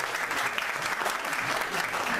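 An audience applauds at the closing ceremony of a screener and oncology training course, steady dense clapping throughout the short stretch, fairly even in loudness.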